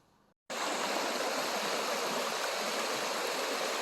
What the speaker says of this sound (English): Another obstacle here you could have paddling up this creek is this little set of rapids here